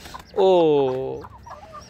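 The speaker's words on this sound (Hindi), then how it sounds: "ये देखिए जी अभी मुर्गियाँ रखी हुई हैं, मुर्गियों को ये डाल रही हैं जी दाना वगैरह" Chickens in a village yard while grain is scattered for them: one loud, drawn-out, tonal call rings out close by for about a second, then fades into faint yard noise.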